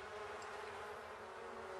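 Bees buzzing in The Sims 4, a steady close insect drone with a constant hum that holds without pause for the short stretch, with no talk over it.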